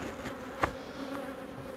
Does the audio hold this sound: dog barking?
no